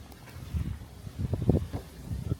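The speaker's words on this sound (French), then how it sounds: "Trop de vent déjà." Strong wind buffeting the microphone outdoors at the start of a Bahamas trip, low gusty rumbles rising and falling in bursts, loudest around the middle, with no speech.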